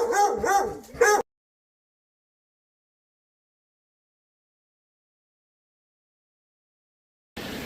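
Dogs setting out on a hike to Park Butte bark and yip excitedly in a short, loud burst of about a second, then fall silent, with a faint snatch of the same noise returning at the very end.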